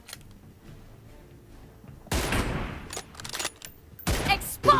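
Gunfire in PUBG Mobile, a quiet start followed by loud bursts of rapid shots in two or three clusters, close and harsh, with no speech over them.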